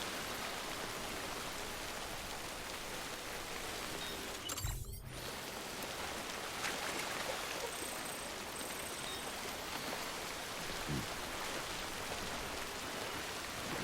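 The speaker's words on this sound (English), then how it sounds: "Once we get out of the rain" Steady rain in the video game Death Stranding, a faint, even hiss of falling water throughout, broken by one brief soft thump partway through.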